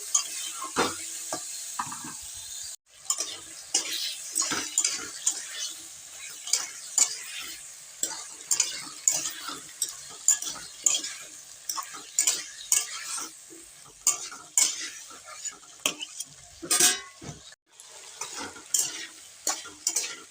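Egg curry masala being sautéed in a pan, with a constant frying sizzle broken by repeated scraping spatula strokes against the metal, close and rhythmic, with no talking.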